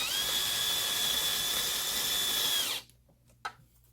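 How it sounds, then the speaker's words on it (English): A Bosch power drill whines loudly and steadily for under three seconds while installing a solar inverter, then stops abruptly, leaving a quiet room with a faint click. "using this drill bit, my Bosch,"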